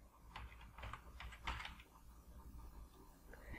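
Keys clatter on a computer keyboard as a search word is typed, a short burst of soft quick clicks, faint and close, followed by quiet.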